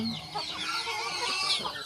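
Young chickens around four to five months old cluck and chatter close by on a farm in the rain, a busy overlapping run of short calls.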